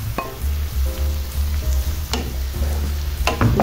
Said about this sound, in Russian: Добавляю к луку, смешиваю его с грибами.